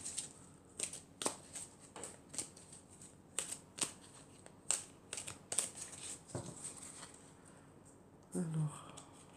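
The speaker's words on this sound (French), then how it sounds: "Alors je vais prendre encore quelques cartes." Tarot cards being shuffled by hand, a series of crisp riffling snaps and soft slaps repeating irregularly at close range under quiet French speech.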